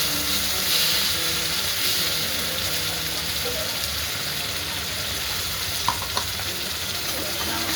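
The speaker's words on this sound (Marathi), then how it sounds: "असं वाटण हलवून घेते छान असं भाजून घेते" Masala paste for chole bhaji fries and is stirred in hot oil, giving a steady, close sizzle with soft scraping from stirring throughout.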